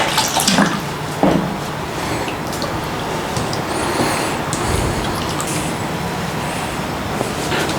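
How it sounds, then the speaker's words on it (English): Chickpeas from a tin are rinsed under a running kitchen tap, a steady wash of water splashing into the sink for several seconds with no talk over it. "all we got to do is drain and rinse this a couple of times"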